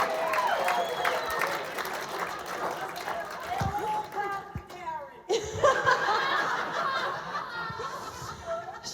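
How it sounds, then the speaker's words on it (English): Wedding guests at the speeches break into applause mixed with laughter and chuckles, the clapping swelling and dipping in bursts over several seconds with talking in between. "Can we just have a round of applause for that?"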